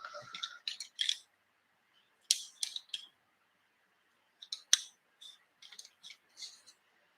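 A coloured pencil is pressed hard across smooth paper, making a series of short, crisp scratchy strokes in bursts separated by pauses, close up and fairly quiet, with no talking.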